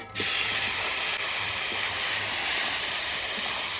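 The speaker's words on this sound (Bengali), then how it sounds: "এবার এই সব মাছটা ভেজে নেব।" Fish pieces frying in hot oil in a home kitchen, a steady loud hiss and sizzle that starts abruptly and runs unbroken throughout, with no talking.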